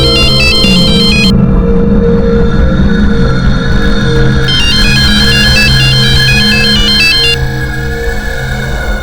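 A loud electronic phone ringtone plays a repeating melodic pattern over a dense, busy background hum, continuing throughout.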